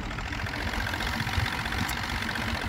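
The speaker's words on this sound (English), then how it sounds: "right now it's actually idling in gear, so that's a new thing for me with this motor." An Evinrude 70hp outboard motor idles in gear, a steady, slightly rough mid-low engine putter with faint knocking texture, continuous and fairly close, with no voices over it.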